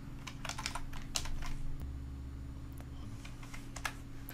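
Rapid keyboard typing while entering CSS code on a computer, with irregular clustered keystroke clicks over a steady low background hum.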